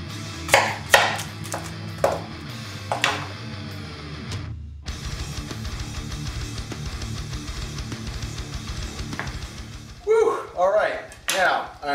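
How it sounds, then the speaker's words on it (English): An onion is chopped with a knife on a board, a few sharp, near thuds at first and then a quicker run of cuts, with people talking throughout. "Now, while I chop this onion"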